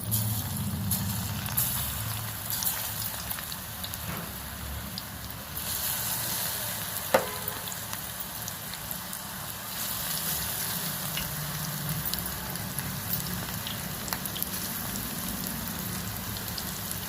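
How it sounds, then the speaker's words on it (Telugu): Okra pakoda fritters fry in a pan of hot oil with a continuous rain-like sizzle and fine crackling, steady and moderately quiet, with a few faint clinks along the way. "కలర్ మారేంత వరకు వేయించాలి."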